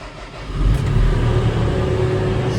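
A tractor engine starting with the key in a dark shed, a low rumble that swells after half a second and settles into a steady loud idle, no talking.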